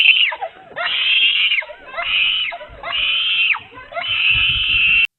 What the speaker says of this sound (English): She screamed in fear, kicking and trying to get it off.